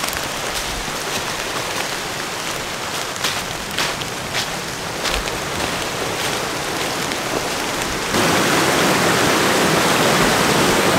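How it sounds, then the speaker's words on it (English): A small waterfall runs full after heavy rain, giving a steady, dense rushing roar that fills the whole clip and swells louder near the end. "So here's our little waterfall."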